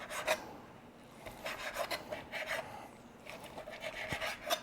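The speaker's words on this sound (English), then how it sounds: "our chicken is off the smoker, so we're gonna cut that into thin strips" A knife slices smoked chicken into thin strips on a board, giving a quiet run of soft rasping strokes, close and steady, with no talk.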